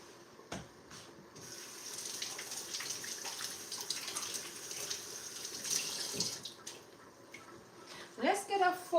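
A kitchen tap runs steadily as hands are washed beneath it, a soft continuous splash with a few sharper splatters and knocks, and a voice speaks briefly near the end.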